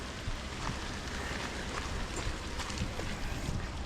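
Rain falls steadily on a mountain trail, a dense even hiss with scattered patters and some wind buffeting, moderately quiet and continuous.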